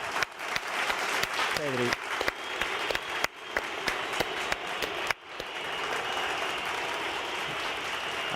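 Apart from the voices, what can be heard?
applause sound effect on livestream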